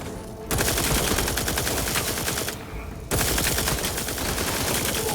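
Sustained heavy gunfire in The Outer Worlds 2 during a firefight with snipers, many weapons blending into a loud, dense rattle with a brief drop partway through before the barrage resumes.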